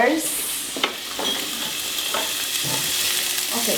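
Peppers frying in a pan with a constant loud sizzle, broken by a few scraping stirs of a utensil against the pan, close up and with no talking.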